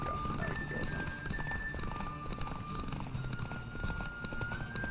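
Galloping horse hooves pound steadily through a race in The Witcher 3, a dense continuous clatter with a horse whinny, set against game music and ambient sound.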